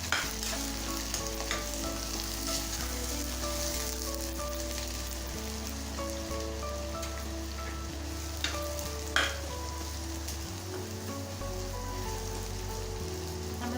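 Chicken for a Mughlai dum chicken frying steadily in hot oil until golden brown, a continuous close sizzle with dense crackle and occasional sharp pops, no voices.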